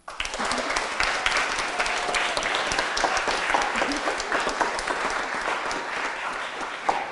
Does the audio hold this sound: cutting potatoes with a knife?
no